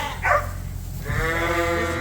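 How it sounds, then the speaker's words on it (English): Suffolk ewes bleat in a barn, one loud close call early on followed by a longer wavering bleat, with shuffling livestock noise underneath. "Gotta try to get all these girls up to the front before they have a mad dash for the"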